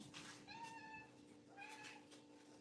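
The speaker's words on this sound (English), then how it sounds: "Oh, there's the other cat." A house cat meows twice in quick succession, soft and fairly close, each call a short rising-and-falling cry over a quiet indoor hum.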